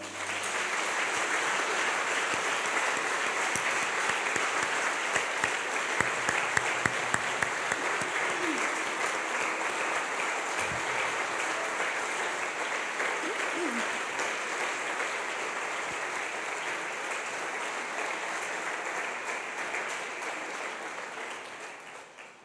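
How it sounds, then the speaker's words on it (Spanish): A standing church congregation gives long, loud applause, a steady wash of clapping that holds for over twenty seconds before tapering off at the end. "¿Le das un fuerte aplauso a Él?"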